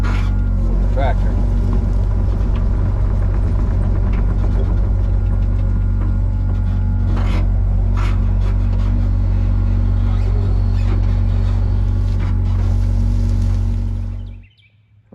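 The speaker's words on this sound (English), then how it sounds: "So I pretty much have to just run straight up and down it with the tractor" A tractor pulling a land leveler runs straight up and down a steep slope, its engine humming loud, close and steady for most of the stretch before cutting away abruptly near the end.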